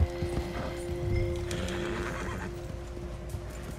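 Steady hoofbeats clop along beneath a horse's whinny in the video game Red Dead Redemption 2, with a faint electronic hum running throughout.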